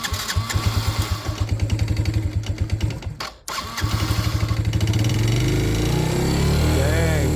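A Yamaha Grizzly 80 ATV with its choke on sputters in a rapid chugging rhythm, cuts out briefly, then restarts and settles into a steady, louder idle with a rising whine, close up.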